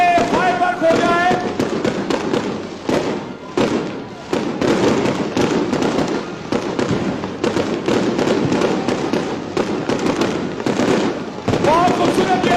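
Fireworks burst at a political rally in Peshawar: dense crackling and popping keeps going for the whole stretch, loud and continuous, with crowd voices mixed in underneath.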